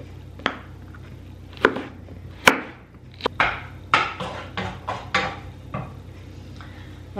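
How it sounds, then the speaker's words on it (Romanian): A knife chops a bell pepper on a board in a home kitchen, about a dozen distinct close thuds in an uneven rhythm with short pauses between cuts. "hai să tăiem și din ardeiul ăsta"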